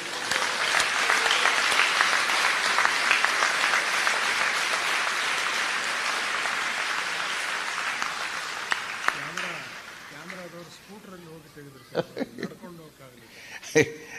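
A large crowd clapping at a huge gathering under a vast canopy tent, dense applause filling the first two-thirds and then fading out, followed by someone speaking and a few scattered chuckles.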